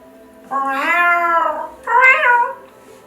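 A cat meows twice at close range, a long rising-and-falling call followed after a short pause by a second, slightly shorter one, loud and clear with no talking.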